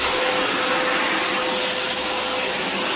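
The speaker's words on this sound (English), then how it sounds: "he will start vacuuming all the surface to remove the pet hair" A backpack vacuum cleaner with a detail brush removes pet hair from surfaces during a move-out apartment cleaning, a loud, steady, close motor roar with a constant whine, with no talk.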